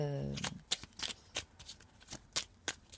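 Tarot cards are shuffled at close range: a string of soft, crisp riffles and flicks at uneven intervals, fairly quiet, with a brief voiced sound at the very start.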